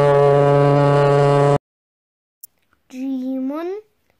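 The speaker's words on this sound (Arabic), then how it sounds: "باخرة." A ship's horn blows one loud, steady blast for about a second and a half in a children's alphabet cartoon about transport vehicles, then a voice speaks briefly after a pause.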